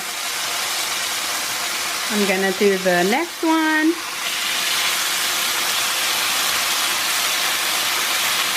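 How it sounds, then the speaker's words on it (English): Steady broadband sizzling of vegan French toast frying in butter and oil in a pan continues throughout, with a person speaking briefly over it midway. "I drop it down into the pan, and it's frying in that nice buttery mix of oil"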